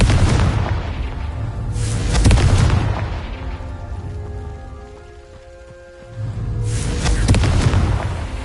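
A Confringo blasting curse from Hogwarts Legacy bursts into deep booming explosions, two heavy rumbling blasts with crackling debris and a ringing tail between them, loud and close, with no voices.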